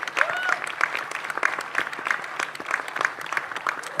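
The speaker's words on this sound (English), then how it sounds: "Can we have her on stage while we give her a huge round of applause?" Audience applause at a summit as a guest is called to the stage, a moderate, slightly uneven patter of clapping with individual claps standing out, under faint background murmur.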